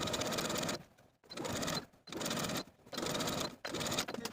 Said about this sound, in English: we're going to understitch, sewing the seam allowance to the undercollar from one side to the other